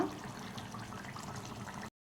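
Water poured into a pot of gongura chicken curry, a steady close splash and trickle lasting under two seconds, then abrupt silence.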